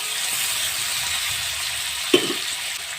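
Chopped tomato fries in oil in a pan for a spicy small-fish and potato curry, giving a steady soft sizzle throughout, broken once by a sharp clink of a utensil near the end.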